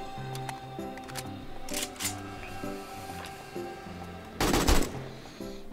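An AK rifle fires in the zombie survival game 7 Days to Die, with a few sharp shots early and a louder burst near the end over game music and ambient tones.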